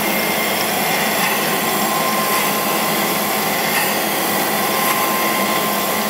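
A cam grinder works a solid roller Ford FE camshaft, making a loud, steady broadband grinding roar with a constant whine. It runs without a break and carries no talk.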